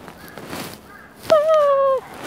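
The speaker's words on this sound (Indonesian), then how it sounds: "Itu burung hantu, teman-teman." A single owl hoot rings out in a quiet forest, a steady hooting tone held for under a second, close and clear.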